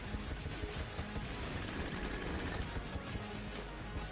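Rapid weapon fire from the twin-stick shooter Enter the Gungeon, a dense, continuous volley of gunshots and clattering bursts for several seconds at steady loudness, with no voices.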